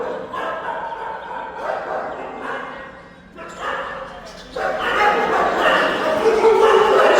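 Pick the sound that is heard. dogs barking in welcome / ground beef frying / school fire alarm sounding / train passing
dogs barking in welcome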